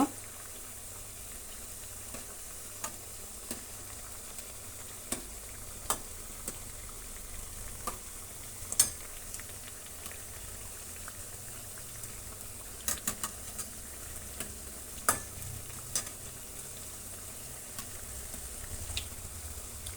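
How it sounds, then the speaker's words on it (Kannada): Vadas deep frying in hot oil, a low steady sizzle with small scattered pops and crackles throughout, faint and continuous with no voices. "ಒಳ್ಳೆ ಡೀಪ್ ಫ್ರೈ ಮಾಡ್ಕೊಂಡ್ಬಿಟ್ರೆ ಗರಿ ಗರಿಯಾಗಿರುತ್ತೆ ಫ್ರೆಂಡ್ಸ್ ವಡೆ ನೋಡಿ ಎಲ್ಲ ಆಯಿಲ್ ಬಿಟ್ಕೊಳ್ತಾ ಇದೆ"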